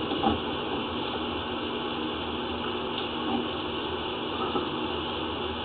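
A sewer inspection camera cable is pulled back through a house drain line toward a concrete hub, giving a steady mechanical whirring hiss with faint ticks.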